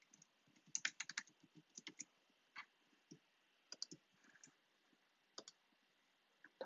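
An email address is typed on a computer keyboard in soft, close, irregular clusters of key clicks with short pauses between bursts, quiet and without talking.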